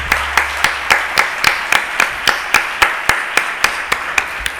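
Audience applause in a meeting hall, heard as a steady series of loud, sharp, evenly spaced claps that sounds like one close clapper rather than a crowd.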